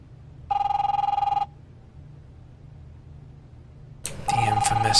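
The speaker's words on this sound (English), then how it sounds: "The infamous phone." A telephone rings in The Wolf Among Us, a steady tonal double burst at the start followed by a pause, then it rings again under a voicemail greeting spoken over it.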